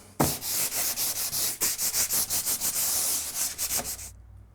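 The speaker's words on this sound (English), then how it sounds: "Next, sand around the area to improve adhesion." Plasterboard being sanded around a cut rectangular hole in a wall, a rapid series of scratchy back-and-forth rubbing strokes, close and fairly loud, ending abruptly.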